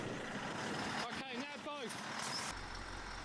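A bogged Tatra 8x8 truck spins several of its wheels, its engine droning steadily while the pitch of the revs swoops up and down, with a voice heard briefly in the middle.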